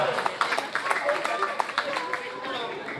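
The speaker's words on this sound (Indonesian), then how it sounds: "tepuk tangan buat Kepala Sekolah" An audience at a school gathering applauds the principal, a busy patter of claps with some sharper individual claps, over mixed background chatter.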